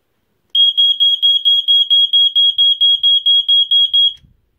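A BRK 79R or First Alert SA67D smoke alarm sounds close and loud, giving a rapid run of about a dozen piercing high beeps in an even pulsing rhythm for roughly four seconds before cutting off.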